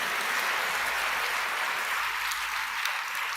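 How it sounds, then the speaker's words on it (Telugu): Applause from a church congregation at a Good Friday service: a steady, dense wash of many hands clapping at even loudness for the whole stretch, with no speech over it. "చప్పట్లు కొట్టండి రా."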